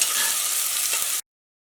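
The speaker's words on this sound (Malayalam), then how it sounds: "സവോളയ്ക്ക് നന്നായിട്ട് വഴന്നിട്ടുണ്ട്" Onions fry with ginger, garlic and green chili in a hot pan, a bright continuous sizzle heard up close for about a second before it stops dead into silence.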